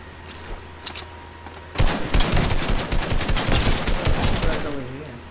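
Video game gunfire: quiet at first, then a loud, dense burst of rapid automatic shots and overlapping bangs begins near two seconds and keeps going close up. Someone speaks briefly.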